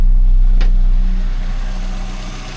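A Mini Clubman with a 998 engine, points ignition and a 3-ohm coil idles close by, a steady low rumble that eases slightly in level, with one brief click early on.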